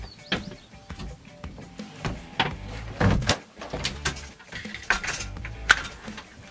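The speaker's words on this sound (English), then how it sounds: "I'll close the door." Door closing on a UPVC narrowboat, a series of close clunks, clicks and light rattles of the door and fittings, with no talking.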